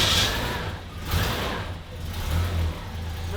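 An LS V8 swapped into an HQ Holden starts up and settles into a loud, rumbling idle with slight revving surges.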